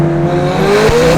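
Lamborghini sports car accelerating hard, a loud, close engine roar with a tone that rises steadily as the revs climb.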